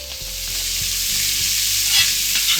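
Sliced onions frying together with pork in a pan over high flame for Coorgi pandi curry, a loud, dense and continuous close sizzle with faint stirring underneath.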